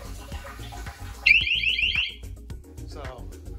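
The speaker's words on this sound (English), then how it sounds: "And this is like an alarm," A water leak sensor under a washing machine goes off with a loud, rapidly pulsing electronic beep lasting about a second, amid background clatter and a voice talking.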